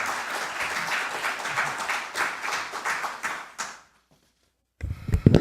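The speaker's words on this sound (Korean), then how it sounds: "큰 박수로 맞이해 주시기 바랍니다" Hearty applause from a seminar audience welcoming a National Assembly member to the podium, dense clapping lasting over three seconds before cutting to silence, then some closer handling noise.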